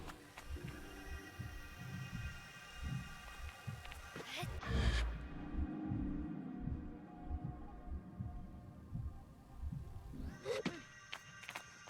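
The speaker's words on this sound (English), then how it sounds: "I like the percussions here that sound like a heartbeat." Heartbeat-like percussion in the Sable video game score, soft low thumps pulsing in a steady rhythm beneath sustained tonal music, fairly quiet, briefly interrupted by a louder thud midway.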